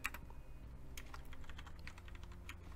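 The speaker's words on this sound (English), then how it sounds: "So right here, I'm going to type" Computer keyboard typed on in quick, irregular clicks, close and moderately quiet over a steady low background hum, with no speech.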